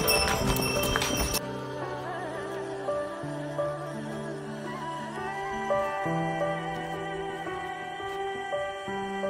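Horses walk a mountain trail from Jomsom to Muktinath in Mustang, Nepal, their hooves clip-clopping steadily under continuous music that starts with a loud burst and carries through to the end.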